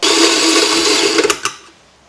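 A Quick Mill espresso machine with an E61 group runs with a steady, loud pump drone for over a second. A few sharp bursts follow before it cuts off into quiet.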